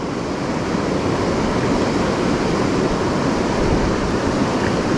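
A remote mountain trout river rushes loudly and continuously, a dense broadband roar of turbulent water close by with no other sounds standing out.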